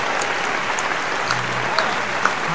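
An audience claps in a short burst of applause at a poetry and song gathering in Bangkok, a dense even patter of hands with a couple of sharper claps near the end.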